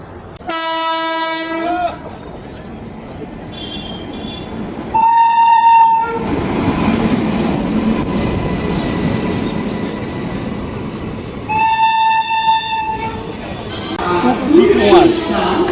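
Howrah–Siliguri Hool Express in the early morning near Bandel sounds three loud horn blasts, spaced apart, over the heavy rolling rumble of the passing train.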